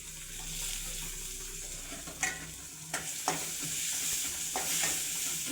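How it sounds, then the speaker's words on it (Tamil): Small onions with a pinch of turmeric frying in oil after mustard seeds have popped, a steady close sizzle broken by several sharp scrapes and taps of a spoon stirring the pan. "ஒரு சிட்டிகை மஞ்சள் போட்டு சின்ன வெங்காயம் போட்டுக்கோங்க"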